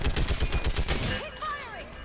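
Gunfire in the video game Mass Effect 3 sounds as rapid, loud automatic bursts that end after about a second, followed by warbling electronic effects and a voice speaking briefly.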